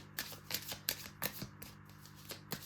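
A deck of tarot cards being shuffled by hand, close and crisp, with repeated riffling bursts about every third of a second against a quiet room.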